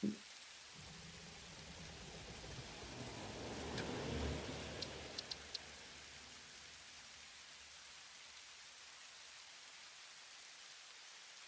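Steady rain from video game weather set to rain, overcast and thunderstorms, a soft continuous hiss that swells briefly mid-way with a few faint ticks, no talking.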